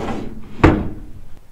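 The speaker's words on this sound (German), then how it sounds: "Das ist meine letzte Schublade." A single drawer in a cosmetics and bathroom storage unit slides and bumps shut, one short close knock standing out from quiet room noise, with no talking.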